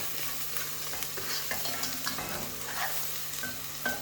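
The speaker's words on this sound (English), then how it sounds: "so we're sweating up our onions with a little bit of oil" Onions sweating in a little oil in a pan for spaghetti bolognese, a soft continuous sizzle with occasional stirring scrapes, fairly quiet and close, with no voices.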